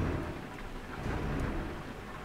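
Rain in a driving game set on Balkan roads, a faint, steady wash of rainfall with a low rumbling undertone, continuous throughout with no voices.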